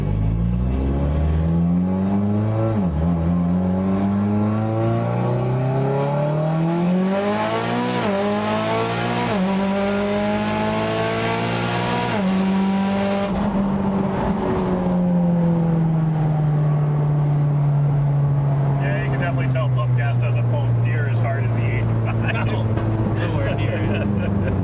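Mitsubishi Evo X engine pulling hard through the gears, its pitch sweeping upward and shifting just under the rev limiter, then holding a steady high drone; people talk over the loud engine throughout.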